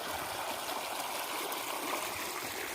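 Water pours steadily from a pipe toward a tank in a village field, making a continuous close rushing flow with no pauses or talking.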